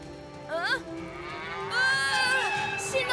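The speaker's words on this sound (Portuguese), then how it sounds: "Parece que alguém deixou a porteira aberta e as vacas entraram nos trilhos." Cows mooing on railway tracks after wandering through an open gate, a few drawn-out moos rising and falling over steady background noise, fairly close.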